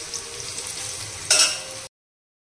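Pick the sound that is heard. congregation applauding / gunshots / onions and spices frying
onions and spices frying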